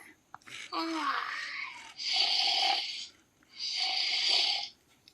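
A small mTiny educational robot gives a synthetic snoring sound effect: one wavering sleepy tone followed by two drawn-out, buzzy snores, loud and close in a quiet room.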